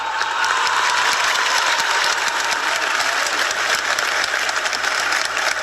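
A large congregation inside a church gives loud, sustained applause to two Olympic medal-winning athletes, a dense steady clapping that fills the space without pause.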